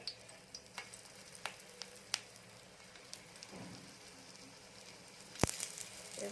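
Semolina batter hits hot oil on a tawa with a soft crackling sizzle, scattered pops and light utensil taps, then a sharp clack near the end; quiet and close.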